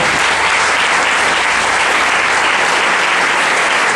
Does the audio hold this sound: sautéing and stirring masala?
no